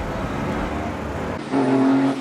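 Cars on the Coventry ring road pass by closely with a loud broad engine rush, then the tone shifts as one vehicle moves off with a steady engine drone; no talk.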